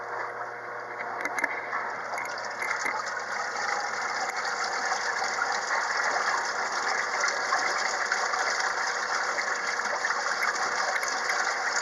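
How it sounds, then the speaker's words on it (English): A portable apartment washing machine filling with water, a continuous even rushing hiss of water pouring into the drum, steady and close throughout with faint clicks near the start. "I think they term it as an apartment washing machine"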